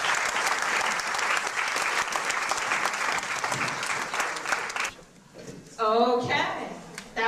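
An audience claps loudly after a comedian's set at a 2005 comedy class show, with sustained dense applause for several seconds that drops away, then a voice speaking over a brief renewed burst of clapping.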